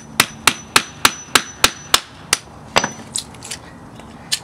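A hammer drives a chisel into nailed scrap wood to split it, landing about nine sharp, evenly spaced metallic strikes up close, then lighter, quicker taps at the end.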